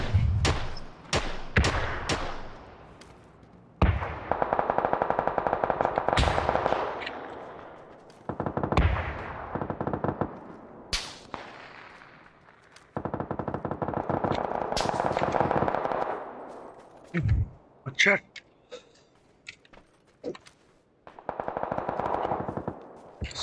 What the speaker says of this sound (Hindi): अच्छा शॉट्स कहाँ से ले रहे हैं ये लोग।